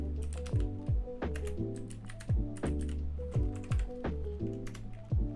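Steady, close typing on a computer keyboard while code is entered, a dense run of crisp key clicks with brief pauses and heavier strokes, no talk.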